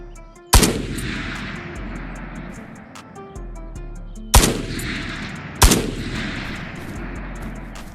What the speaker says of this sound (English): I ended up taking some shots on what I assume is the guy's teammate